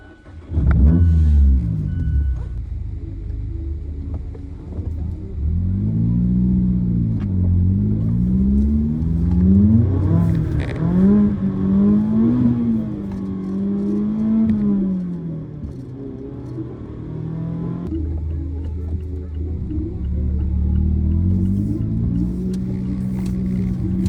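A new Mazda Miata on a private road revs and accelerates repeatedly, the engine note rising and falling through several pulls, loud and close from inside the car.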